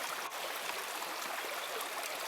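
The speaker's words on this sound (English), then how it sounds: "once I put some pressure on the bag, you'll see that outflow increase a lot" Water pours steadily from a squeezed Sawyer Squeeze backpacking filter bag, a continuous close trickling rush that stays even and unbroken with no voices over it.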